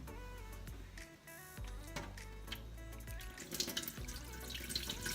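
Water runs steadily from a tap onto orchid roots and old moss, a continuous close splashing with small trickles and drips, quiet and without talk.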